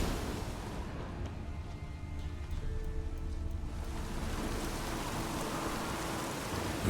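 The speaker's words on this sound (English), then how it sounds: "Looks like rain." Steady rain falling in The Witcher 3: Wild Hunt, a dense continuous hiss with low rumble that holds evenly throughout, with no talking.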